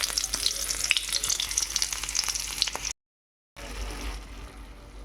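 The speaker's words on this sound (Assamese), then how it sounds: "এইফালে এয়া কাইলৈ টিফিনত নিবৰ কাৰণে ভাজি অকণমান পাতি দিওঁ বুলি ভাবিছোঁ।" Vegetables frying in a pan for a packed lunch, a steady close sizzle and crackle that cuts out briefly, then resumes a little softer.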